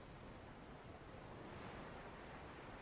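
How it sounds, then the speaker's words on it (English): Steady surf washes in a continuous broadband roar, waves rolling onto the shore with a soft hiss of wind, no voices. "The tides coming in and going out."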